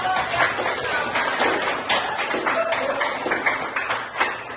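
Dense, steady clapping from a small group fills the whole stretch, a busy patter of overlapping hand claps at even loudness with no voices standing out.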